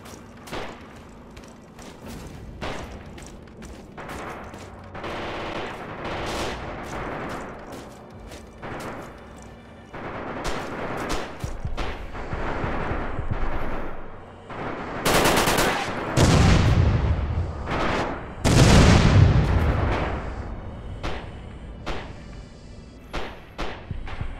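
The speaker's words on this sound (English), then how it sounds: "Artillery is going to be coming in." Heavy gunfire and artillery in the Red Orchestra 2 Myshkova River battle: bursts of machine-gun fire and rifle shots crackle steadily, with two loud, deep artillery blasts crashing in near the end.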